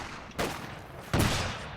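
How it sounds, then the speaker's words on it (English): Two separate sniper rifle shots in Company of Heroes 2, each a sharp crack with a short rumbling tail, spaced under a second apart over quiet battle ambience. "I just start sniping away."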